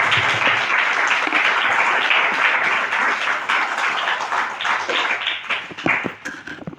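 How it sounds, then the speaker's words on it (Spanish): A church congregation breaks into steady, full applause that lasts several seconds, then thins toward the end into looser, scattered claps. "Un aplauso al Señor."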